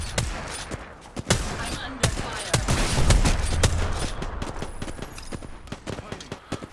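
Gunfire in the video game Apex Legends crackles in rapid bursts and sustained volleys, loud and close, with busy game effects and player voices mixed in.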